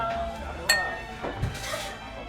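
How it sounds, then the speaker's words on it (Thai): Glasses clink together in a toast at a Fukuoka restaurant table, one sharp ring standing out among softer dish and cutlery knocks, with a voice chatting nearby. "ไปชนแก้ว"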